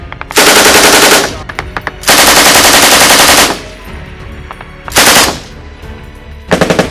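A vehicle-mounted machine gun fires during a Marine live-fire range exercise, loud and close: three long sustained bursts and a short final one, separated by pauses with echoing decay.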